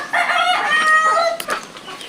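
Chickens at a poultry farm in Rajapur, standing outside in the cool, cluck and call loudly and close, with a short crow-like cry and overlapping squawks, no voices.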